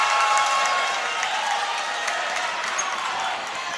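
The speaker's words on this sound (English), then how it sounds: "Crowd getting loud." A basketball crowd at a Menlo at Vanguard game roars in a dense, loud, sustained wash of cheering and noise that stays strong throughout and eases slightly toward the end.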